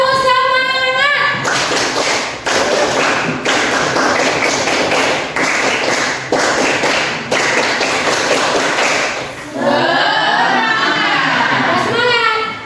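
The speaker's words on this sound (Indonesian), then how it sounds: "Kita tepuk semangat dulu." A group performs the rhythmic 'tepuk semangat' spirit clap at a training session, loud sharp claps in bursts separated by brief gaps, with voices calling out at the start and end.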